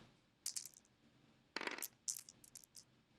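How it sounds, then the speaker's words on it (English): Four dice rattle and clatter on a table during a tabletop miniatures tournament game, heard as several short, bright bursts of tumbling clicks, faint and close. "This is 4 dice for Luke"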